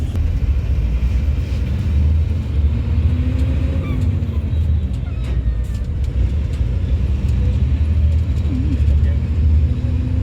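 A bus engine on the road near Hoskote, bound for Tirupati, gives a steady, loud, low rumble that continues without a break through the whole stretch, with faint voices in the background.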